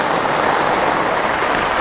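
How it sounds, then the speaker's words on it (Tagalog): Heavy typhoon rain pours down in the Philippines in a dense, continuous roar, loud and close, with no voices. "Yung lakas ng ulan guys."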